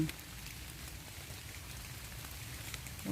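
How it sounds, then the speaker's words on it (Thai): Rain falling outdoors during mushroom picking, a steady soft patter of drops on surfaces, even and continuous, fairly faint, with no voices. "วันนี้ฝนตก"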